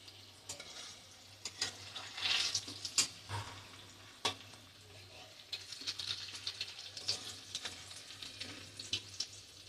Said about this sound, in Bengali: কড়াইতে তেল দিয়ে দিয়েছি